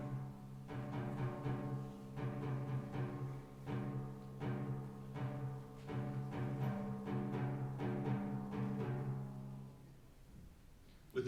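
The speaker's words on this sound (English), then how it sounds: "The only guide we have here is the timpani." Timpani thrum in a steady, heartbeat-like pulse beneath sustained orchestral string chords during Beethoven's Symphony No. 5, with soft, regular strokes continuing before the texture thins and fades near the end.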